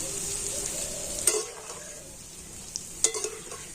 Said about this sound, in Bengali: আলু ভুজিয়াটা খুব তাড়াতাড়ি কিন্তু ভাজা হয়ে যায়